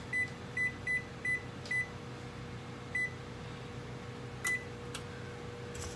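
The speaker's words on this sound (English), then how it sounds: "Now I'm about to preheat this oven to 400." An oven's control panel gives a series of short electronic beeps while preheat is set to 400, about six quick tones in the first few seconds, then two more, over a faint steady hum.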